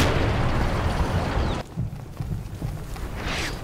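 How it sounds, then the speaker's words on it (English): Artillery barrage landing on a hill, a dense roaring rumble of blasts that cuts off abruptly, followed by scattered thuds and a distant whooshing burst. "there is the barrage, hopefully suppressing his troops on the hill"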